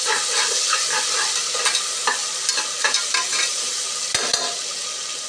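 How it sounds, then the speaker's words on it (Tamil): Masala is stirred in a frying pan for coconut milk rice, with repeated close scraping strokes of the spoon over a constant, even sizzle and no talk. "நல்லா கிண்டிடுங்க இங்கே பாருங்கள் நல்லா கிண்டியாச்சு"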